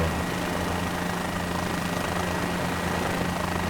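Helicopter flying in the Microsoft Flight Simulator video game, a steady, dense rotor and engine drone with a low hum that stays constant and loud throughout, with no voices.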